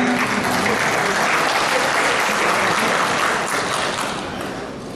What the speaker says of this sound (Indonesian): Kita tepuk tangan pimpinan.